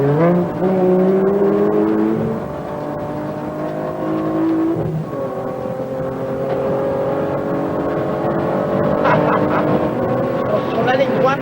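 A race car accelerates hard with rising engine pitch, shifts, then brakes and drops in revs through a turn, loud and close, with people talking over it in French.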